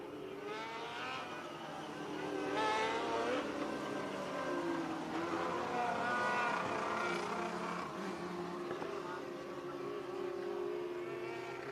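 Race cars restarting at Marion County Speedway drone together at a distance, their engines faint and layered, with the pitch swelling and easing as the field gets back up to speed.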